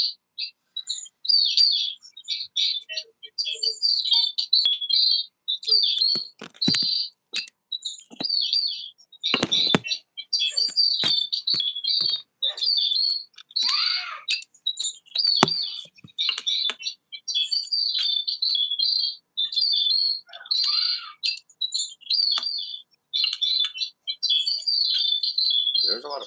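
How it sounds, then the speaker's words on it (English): A dense, continuous chorus of high-pitched bird chirps and tweets, with a voice speaking briefly amid the chatter. "There's a lot of birds."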